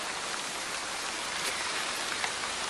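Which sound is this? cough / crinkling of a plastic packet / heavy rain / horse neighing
heavy rain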